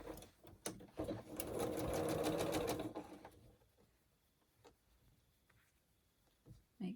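A sewing machine stitching a seam on a pinwheel quilt runs in a quick, even, close-up whir for about two seconds, followed by quieter clicks and fabric handling.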